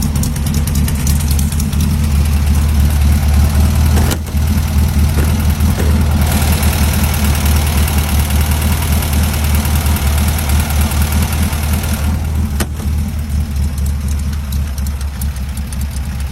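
A kit car replica engine idles steadily and close by after being fitted with a new fuel pump, fuel tank and carburetor, a loud, continuous low rumble that runs uninterrupted with no talk.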